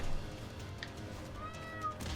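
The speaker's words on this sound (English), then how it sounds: "Yes, hello, cat, I can hear you." A cat meows faintly a couple of times indoors against a quiet background hum, the calls short and distant-sounding.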